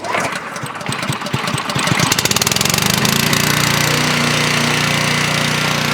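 A pressure washer skid's engine is started with a pull rope, a few rough cranking chugs catching and rising into a loud, steady close-up engine roar that holds to the end.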